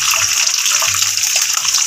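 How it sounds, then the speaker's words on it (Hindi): Green chilies for Hyderabadi mirchi salan fry in hot oil, making a loud, close, continuous crackling sizzle that stays steady throughout. "इसके अंदर मिर्चें डाल के फ्राई कर लेंगे"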